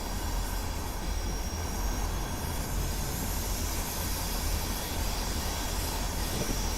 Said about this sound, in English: why are we scraping the rails?